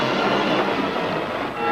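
A train from a western film, with a dense, loud rumbling roar of rolling rail cars and wheel noise that is continuous and close throughout.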